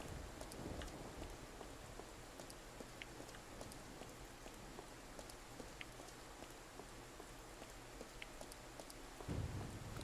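Steady rain hisses and patters in the Life Makeover video game, a soft, even wash of falling drops with a low rumble underneath, continuous and fairly quiet.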